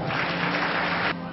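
A church audience claps steadily in a muffled, roomy wash of many hands, which drops off slightly near the end, with no voices heard.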